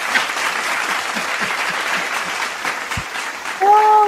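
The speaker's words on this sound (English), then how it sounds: "Let's give a hand clap" A live audience claps for a singer's performance, a loud, steady burst of applause filling the whole stretch, with a brief whoop or voice near the end.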